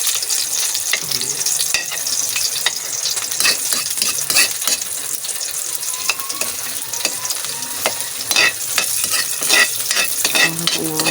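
Garlic sautéing in a kawali for a simple pancit with sardines, a dense continuous sizzle broken by frequent scraping stirs and light utensil clinks.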